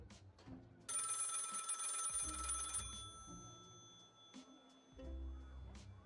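A telephone bell rings in a loud, bright burst for about two seconds amid the game's ambient sounds and soft effects in Lil' Guardsman.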